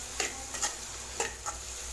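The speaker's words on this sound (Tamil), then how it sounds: "மீடியம் ஃப்ளேம்லேயே வச்சு நல்லா வதக்கி விட்டுக்கலாம்" Small tomatoes sauté over a medium flame for garlic rice, producing an even steady sizzle with a few quick scraping stir strokes close by.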